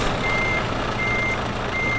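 A truck engine in the Euro Truck Simulator 2 video game rumbles steadily, with a thin electronic beep recurring at intervals above the constant loud drone.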